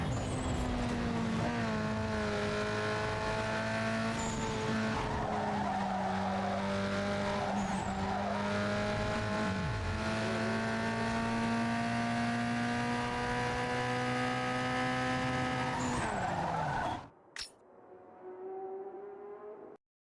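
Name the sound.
race cars driving in video game Need for Speed Underground 2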